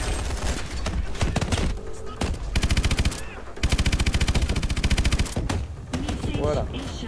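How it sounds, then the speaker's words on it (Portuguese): Machine gun fire from Call of Duty Advanced Warfare rattles in rapid sustained bursts, loud and close, with short pauses between volleys and a few explosive impacts over a busy battle backdrop. "Não pode sobreaquecer a metralhadora, senão você fica sem ela."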